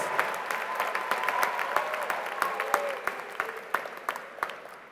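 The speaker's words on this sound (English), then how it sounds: "Let's have a round of applause to recognize our veterans and active military members." A commencement ceremony crowd gives sustained applause for veterans and active military members, a dense, even clapping that carries on throughout with a few sharper claps standing out near the end.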